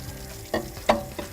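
Someone scrubs an Orgreenic frying pan while washing dishes, making three short, separate scraping strokes against the pan surface, fairly close and with no talking.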